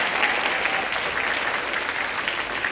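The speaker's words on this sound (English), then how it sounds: "But give them one more round of applause." An audience applauds an elementary school choir at a music event, a loud, dense and steady round of clapping that holds evenly throughout.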